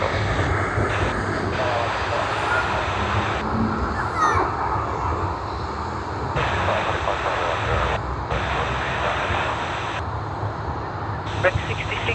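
Airliner taking off at Sydney Airport, a sustained roar of jet engines, loud and steady throughout, with radio chatter and voices intermittently heard over it.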